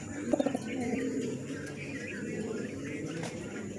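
Pigeons cooing softly in a coop, a short burst of low repeated coos near the start, then a quiet murmur under faint background noise.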